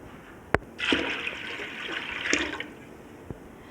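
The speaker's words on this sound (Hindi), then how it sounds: "और उसके मुताबिक मैं पानी डालूँगी।" A sharp knock, then a gushing pour of water into a pot of lentils lasting a couple of seconds, followed by a second burst and a soft tap.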